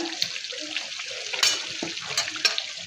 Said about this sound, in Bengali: ধনিয়ার গুঁড়ো মশলাটা ভালো করে কষিয়ে নিব এখন দিয়ে দিব বাদাম বাটা